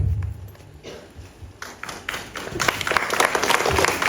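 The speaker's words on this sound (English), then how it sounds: "give them a loud, loud cheer while they do and share the first cake of their life" Wedding guests at a Goan celebration clap and cheer as the couple cut their first cake, the applause building from scattered claps into a loud, dense crowd ovation.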